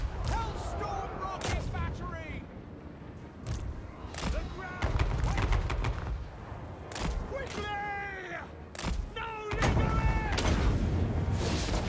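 Units firing in a Total War Warhammer 3 battle involving Dwarfs, heavy booming volleys and thumping artillery-like blasts in irregular bursts, while someone talks throughout.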